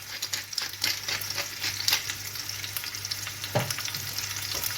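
Lamb shanks seasoned with salt, pepper and four-spice sear in a pan with a loud, crackling sizzle, punctuated by sharp spits and a utensil scrape.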